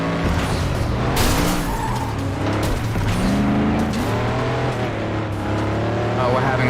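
Car spinning around and skidding in the racing game FlatOut 2, a steady engine drone with tire scrub and scraping under continuous talk.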